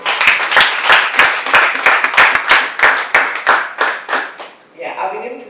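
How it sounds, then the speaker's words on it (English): Scattered hand clapping for a speaker at an academic research network workshop, sharp separate claps in an uneven rhythm from a small group, fading out near the end. "a round of applause for him."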